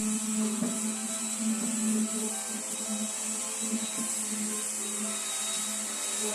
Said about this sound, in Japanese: 電動サンダーも使って削っていったりして微調整をしていきます。